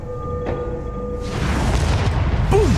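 A missile explosion in the space game Starfield: a quiet hum, then a loud, broad roaring boom that swells and stays heavy to the end, with a faint whistling tone.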